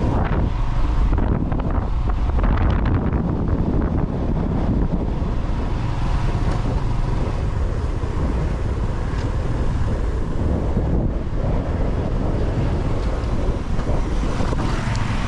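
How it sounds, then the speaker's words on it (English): Strong coastal wind in Mombasa County, Kenya, buffets the microphone with a loud, constant low roar and rumbling gusts that last the whole stretch, with no voices. "It's too windy."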